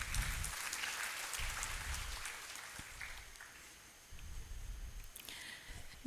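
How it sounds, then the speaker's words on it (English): Audience applause at a foundation day lecture, a soft, fairly distant round of clapping that carries on steadily in a hall with little talk. "Let us have a big round of applause once again"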